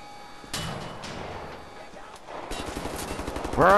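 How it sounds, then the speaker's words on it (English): Gunfire aimed at the player in the video game Wolfenstein The New Order: scattered shots early, then a rapid machine-gun burst of repeated cracks, loud and near, ending in a sharp ringing tone. "Where the hell am I getting shot from?"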